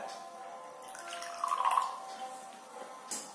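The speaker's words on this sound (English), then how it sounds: "Now I am adding little water." Water poured into a small bottle of homeopathic medicine drops, a brief faint trickle with a soft gurgle in a quiet room.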